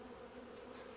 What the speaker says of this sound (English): That is a wasp.